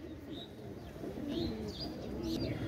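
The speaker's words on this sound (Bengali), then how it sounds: "ভিউয়ার্স আপনারা লক্ষ্য করেন এক জোড়া ওমান টেডি কবুতর" Pair of Oman Teddy pigeons cooing in a loft, low rolling coos repeating steadily at close range, with faint higher chirps and background noise.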